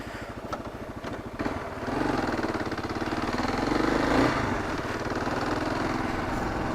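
A Kawasaki KLR 650 single-cylinder motorcycle thumps at idle, then revs up and pulls away, its engine note rising and staying fairly close and loud as it rides off.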